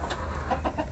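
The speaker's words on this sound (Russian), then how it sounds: "А петух чистый Арпингтон." Orpington rooster and mixed-breed hens cluck close by in a farmyard, a short run of several throaty clucks in quick succession.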